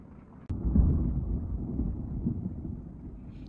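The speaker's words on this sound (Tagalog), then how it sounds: "Grabe ang lakas ng kulog." Deep, loud rumble of thunder during a thunderstorm, with a sharp crack followed by a long rolling low boom that slowly fades, heard from indoors.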